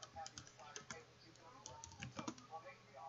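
Fingers tap on a computer keyboard in quick irregular bursts of soft clicks, faint and close, while a person speaks quietly over the typing.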